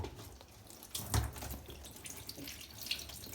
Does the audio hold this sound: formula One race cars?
no